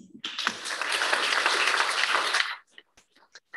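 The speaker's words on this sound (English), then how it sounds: "Round of applause, please." A burst of audience applause at a competition finale event, rising sharply and holding steady for over two seconds before stopping abruptly, followed by a few brief sounds.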